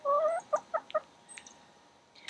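Several chickens make short clucking and chirping calls close by, starting with a longer call and followed by quick single clucks.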